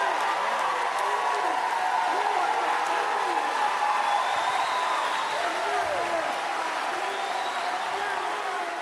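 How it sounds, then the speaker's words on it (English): A town hall crowd erupts in sustained applause and cheering, a dense continuous roar with shouts and whoops on top, loud and close throughout with some voices rising out of the mass. "The crowd went wild."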